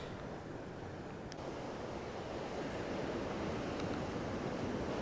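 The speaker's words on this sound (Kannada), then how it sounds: "ಒಮ್ಮೆಲೆ ಅಲೆಗಳ ಸದ್ದು ಬೋರ್ಗೆರೆಯೋ ಹಾಗೆ ಭಾಸವಾಗುತ್ತೆ" Continuous rumbling wash of ocean surf at a Kasaragod beach, a broad steady roar with slight swells, heard from a short distance with some wind.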